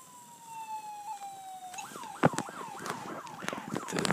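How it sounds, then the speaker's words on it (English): A wailing ambulance siren in Garry's Mod kicks in after a fading steady tone, sweeping up and down in quick, regular cycles, loud and close with no talk over it. "So this is the real siren. And I turn it up for you."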